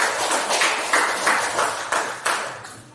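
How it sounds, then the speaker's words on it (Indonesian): Classroom applause for a student group fills the space with dense, steady clapping from several people, a few louder claps standing out before it thins and fades near the end. "Kita berikan tepuk tangan dulu untuk kelompok 3"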